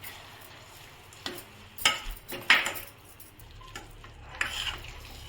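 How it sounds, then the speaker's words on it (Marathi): A utensil stirs a thickening tamarind chutney mixture in a pan on the stove, giving scattered scraping clinks against the metal over a low sizzle, close and fairly quiet. "आता हे हलव्याला चांगलं मिक्स करून घेते"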